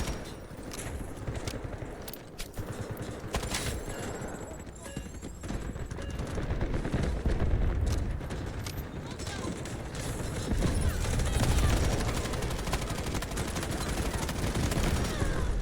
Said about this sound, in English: That was a crazy amount of bullets.